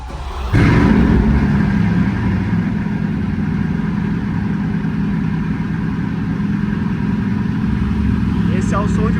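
Three Bugatti cars with over 40 cylinders between them start together with a sudden burst, then settle into a loud, steady idle, a deep engine rumble that continues without a break.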